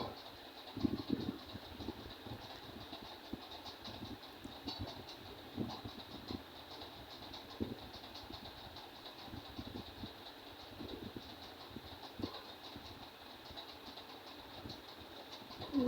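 A sewing machine stitches the folded neckline seam of a kameez, a quiet mechanical clatter coming in short, uneven bursts of rapid ticking against a soft motor hum.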